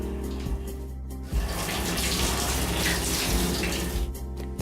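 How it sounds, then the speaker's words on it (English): A face shield filter is washed under a steady stream of running water in a sink, with continuous splashing and rushing flow throughout and no speech. "You wash the filter carefully."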